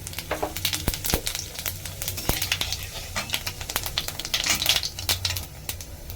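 Cumin seeds hit hot mustard oil in a pan and sizzle close up, with a busy crackling spatter and sharp pops throughout.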